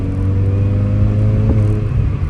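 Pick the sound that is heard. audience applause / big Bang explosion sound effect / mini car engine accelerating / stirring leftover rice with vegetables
mini car engine accelerating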